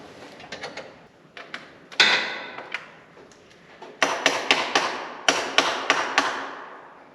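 Metal tapping on the battery post of an International Harvester 1456 Gold Demo barn-find tractor: sharp, close strikes, sparse and uneven at first, then quicker runs of ringing blows with short pauses.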